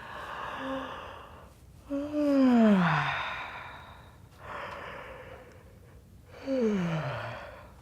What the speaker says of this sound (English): open the mouth really wide and do a lovely big yawn